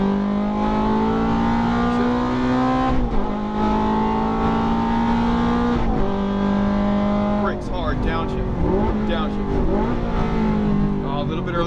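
A Ferrari F430 engine revs hard and accelerates around a racing track, its steady rising and falling whine shifting through gears with brief tire squeal, while an instructor's voice talks over the engine throughout.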